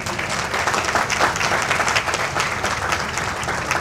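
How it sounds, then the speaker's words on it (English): A convention banquet audience applauds, thick continuous clapping from a large crowd that stays loud and even throughout with no pause. "Give yourselves a round of applause."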